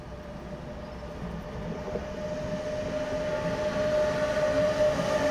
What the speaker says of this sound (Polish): Pierwsza lokomotywa. Drugą za moment zobaczymy.